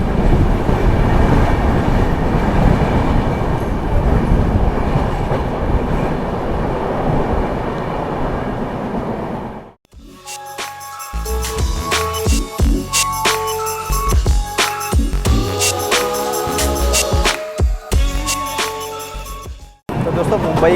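The Maharashtra Sampark Kranti Express, a Delhi–Mumbai train, runs through a Mumbai suburban station without stopping, a loud continuous rumble that gives way to a sharp rattle of wheels on rail joints and clattering coaches, very close, with voices mixed in.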